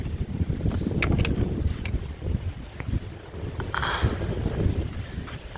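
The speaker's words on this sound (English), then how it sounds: "they creak and squeak because it's a windy day" Gusty wind rumbling and roaring through woods on the Appalachian Trail in Connecticut, buffeting close to the microphone, with a few faint creaks of trees in the background.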